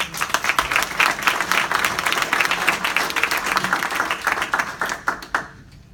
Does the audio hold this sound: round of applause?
yes